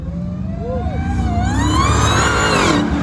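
A 2023 Dodge Challenger SRT Demon 170 with a 6.2-liter supercharged Hemi V8 pulls away in a loud, continuous rising roar, engine pitch climbing steadily while a voice talks over it.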